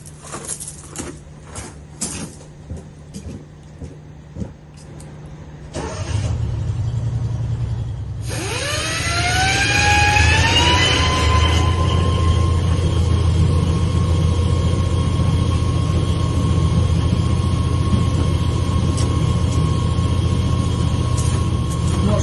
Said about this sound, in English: High-pitched whirring. That's because that is the spinning of the drain.